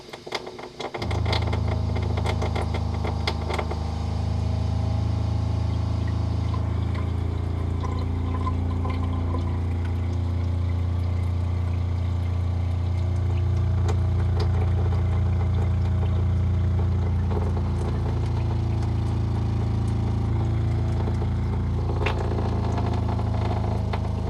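A SHURflo water pump running beneath an RV counter, heard through the countertop as a steady low electric hum and whir that starts after a brief knock and continues unbroken for the whole stretch.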